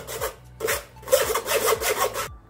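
Hot lentil puran filling for puran poli, sweetened with dry fruit and mawa, being pressed and scraped through a metal sieve at close range: steady rasping, rubbing strokes in short repeated bursts, with no talk.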